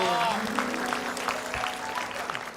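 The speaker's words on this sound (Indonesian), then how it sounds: "Oh, tepuk tangan dulu." Studio audience of an Indonesian TV comedy talk show applauding, a steady wash of clapping lasting a few seconds with music tones and voices underneath.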